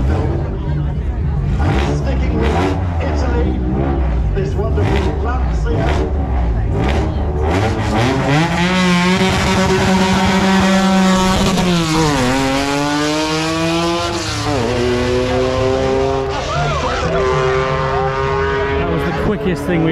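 A Lancia races up the Kop Hill climb, its engine loud and close, revving hard through rising and falling gear changes, with crowd chatter in the background.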